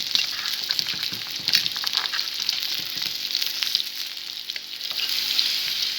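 Potatoes frying in butter crackle and sizzle loudly as they are stirred, with scraping stir sounds and bright spatter popping through a dense, continuous hiss.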